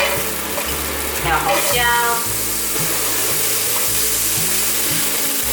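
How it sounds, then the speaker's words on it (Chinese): Soy-based vegan meat with celery and red pepper stir-fries in hot oil, a steady close sizzle with scraping stir strokes and tossing throughout, while a voice speaks briefly over the cooking. "大约略炒翻拌一下"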